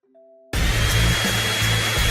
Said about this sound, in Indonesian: Kamu hanya perlu meniupnya dengan pengering rambut.